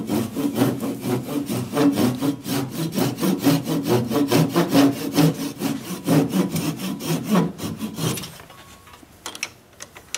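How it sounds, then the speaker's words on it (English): Hand sawing through a dried redwood vase blank on a lathe gives a steady rhythm of close rasping strokes, roughly two per second, stopping near the end with a few light clicks. "I think I'll just saw that off the rest of the way."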